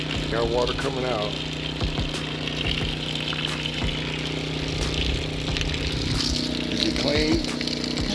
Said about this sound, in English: Got water coming out.